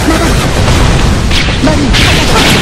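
Artillery skill explosions in the action game Closers, loud dense booming blasts that overlap into a continuous crashing roar, with a fresh bright burst partway through.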